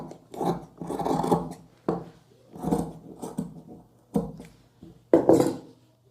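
Scissors cutting a cloth strip for a kurta: a series of short rasping snips in uneven bursts, close and fairly loud, with no one talking.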